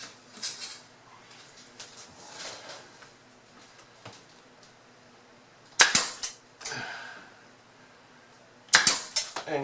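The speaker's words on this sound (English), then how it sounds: "I'm going to blow in some 18 gauge brad nails for this" Nail gun driving 18 gauge brad nails into interior window trim, two sharp, loud, close pops a few seconds apart after quiet handling noises.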